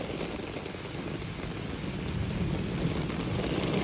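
Heavy rain pours steadily in a thunderstorm, a dense hiss over a low thunder rumble that swells in the second half, with no voices.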